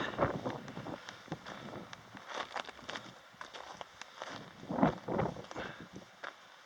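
Gusts of wind buffet the microphone on an exposed mountain trail, rising and falling in soft rumbling bursts alongside faint crunching footsteps.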